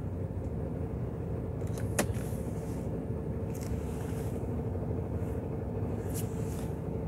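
Low, steady engine rumble and road drone from inside a truck driving away from a client's site in Portugal, with a couple of brief knocks and rattles over the constant hum.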